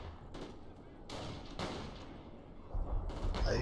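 Artillery fire in a multiplayer strategy video game, several distant booming impacts and bursts of gunfire scattered over quiet battlefield ambience, rising to a heavier rumble at the end.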